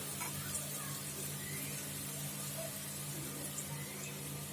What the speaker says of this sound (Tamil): ஆனியன் வந்து பிரிஞ்சிக்கும் சரி பிரியாணிக்கும் சரி நல்லா ரெட்டிஷாக வதங்கணும்